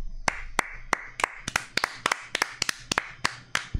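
A few people clap in loose, uneven bursts, a dozen or so sharp hand slaps spread over a few seconds at moderate loudness, with no talk over them.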